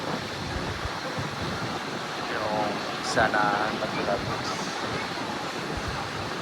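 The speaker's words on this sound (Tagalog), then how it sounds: "Lakas ng hangin dito" Steady strong wind roaring over crashing surf at the Natural Bridge coral limestone formation in Aruba, a constant windy rush at the shore while a person speaks over it.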